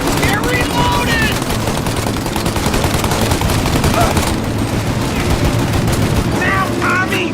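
Dense, loud gunfire from a shootout in the video game Mafia Definitive Edition, with rapid overlapping bursts that run nearly continuously, while voices shout over the shots.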